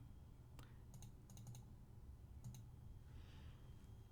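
Keys clicking on a computer keyboard in short bursts of a few quick taps, quiet and close against a low steady background hum.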